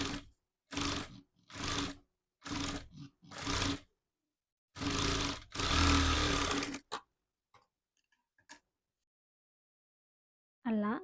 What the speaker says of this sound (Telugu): ఈ కట్ వర్క్ మీద షేప్ అనేది స్టిచ్ చేసుకోవాలి.